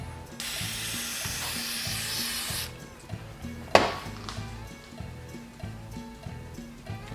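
A sharp hiss of spray runs for about two seconds over the rhythmically chugging idle of an Echo PB-500T backpack blower engine, followed by a brief clatter.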